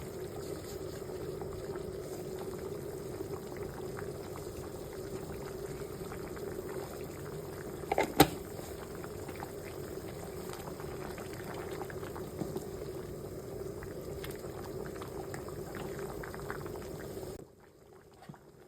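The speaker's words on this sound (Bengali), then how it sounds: "এই যে মুরগির মাংসটা ফ্রাই হয়ে আসছে" Free-range chicken cooking in a pan for a bottle gourd and potato curry gives a steady, close bubbling sizzle that runs evenly, with a couple of faint clinks, then cuts off near the end.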